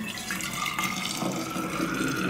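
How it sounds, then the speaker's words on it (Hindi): Freshly boiled hot water poured into a milk bottle in a kitchen makes a steady, close, gurgling stream of liquid with light splashing and no voices over it. "इस पानी को हम बोतल में डालेंगे"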